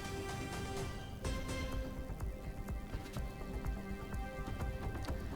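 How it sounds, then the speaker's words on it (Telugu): Heavy rain pours steadily across Kakinada district, a dense continuous patter of drops spattering on surfaces with scattered sharper drips, loud and close throughout with no voices. "కాకినాడ జిల్లా వ్యాప్తంగా ఉదయం నుంచి భారీ వర్షం పడుతుంది."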